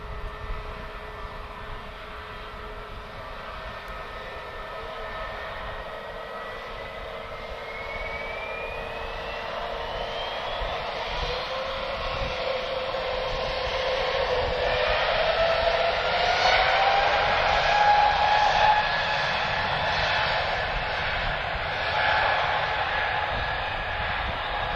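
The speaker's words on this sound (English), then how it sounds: "So you might notice a slight sound difference with the Lufthansa. So this one's got the Pratt & Whitney engines" A Lufthansa airliner fitted with Pratt & Whitney engines at Lisbon Airport, a steady broad jet roar that swells gradually louder through the second half, with no talk over it.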